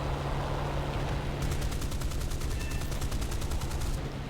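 Sustained rapid gunfire in War Thunder, a steady roar of engine noise underneath and a fast rhythmic burst of repeated shots running through most of the clip.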